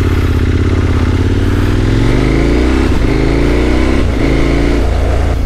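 A 2021 KTM Super Adventure S fitted with an Arrow Sonora exhaust rides past loud and close, its engine droning steadily and rising in pitch as it accelerates through the gears.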